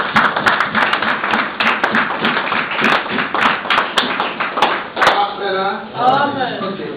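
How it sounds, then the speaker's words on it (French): A church congregation claps with quick, sharp, fairly even hand claps for about five seconds, and then a voice speaks. "On acclame pour la parole de Dieu."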